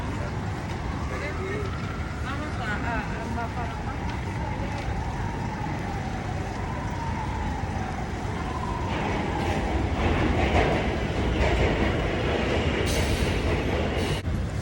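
A train rumbles steadily nearby with a wheel squeal sliding through the middle, growing louder and rougher toward the end, while a voice briefly speaks over it.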